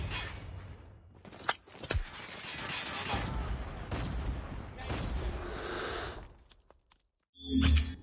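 Cordite gunfire in Call of Duty Mobile, bursts of rapid automatic shots with game effects and a sharp crack, then a pause and a final loud blast; no speech.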